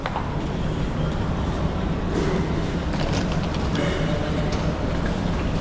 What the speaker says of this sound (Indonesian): jadi sekarang kita mau naik kereta api ini